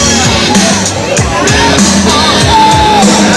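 A crowd at a winter carnival and Winterfest cheers and yells, a loud, continuous mass of shouts and whoops with people talking through it.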